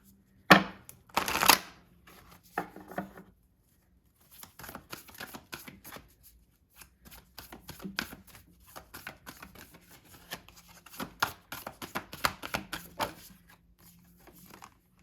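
Oracle cards riffle and slap together in quick, dry bursts of shuffling, close up and fairly quiet, with short pauses between rounds and no voices.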